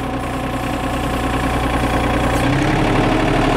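Up close, a tracked machine engine with a blade runs at a steady, loud, rumbling drone, throttled up so its pitch rises slightly near the end, with no talk.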